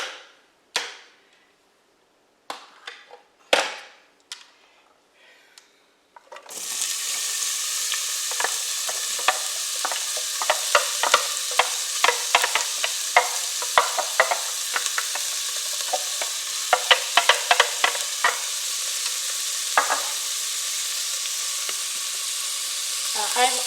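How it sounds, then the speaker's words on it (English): Vegetables including yellow pepper sauteing in a hot pan, a steady loud sizzle with repeated scraping clicks of stirring throughout, after a few sparse knocks at the start. "going to let these saute for about 5 minutes or so"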